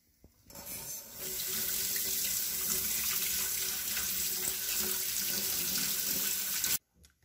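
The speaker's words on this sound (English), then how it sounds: "And rinse the egg with cold water." Cold water runs from a kitchen tap over a vinegar-soaked egg for about six seconds, a steady close rushing splash that starts and stops abruptly.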